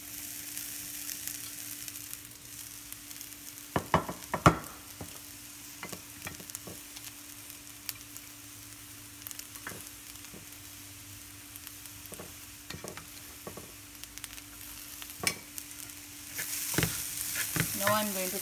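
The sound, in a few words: rice being stirred into cooking coconut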